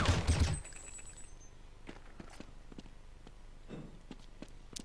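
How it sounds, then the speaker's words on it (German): A loud burst of gunfire opens a Counter-Strike match on de_train, followed by faint scattered clicks, footsteps and distant shots. "aber wieder guter Schuss von Fox"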